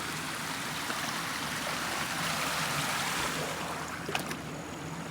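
Water from a waterfall pours steadily into a pond, a continuous broadband rush that stays close and even throughout, with a few faint splashes near the end.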